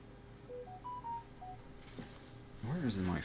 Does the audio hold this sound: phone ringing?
yes